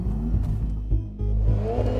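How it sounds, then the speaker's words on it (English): A Porsche Panamera with a PDK dual-clutch gearbox launching hard from a standstill, engine roaring loud and close as it revs up through quick gear shifts with brief dips between them. "how it launches out of the hole is just hilarious"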